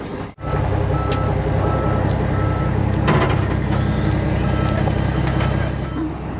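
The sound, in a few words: machine reversing off trailer with reversing beeps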